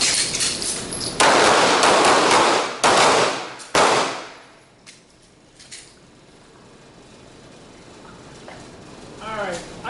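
Handgun gunfire during a nighttime shooting drill in a combatives class: a few loud, sharp shots ring out in quick succession, then fade into quieter room noise with a voice faintly heard near the end.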